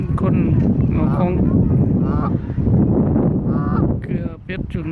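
Canada goose honking in a park on a cool, clear 9°C day, repeated nasal calls rising over a steady wash of background noise, with people talking nearby.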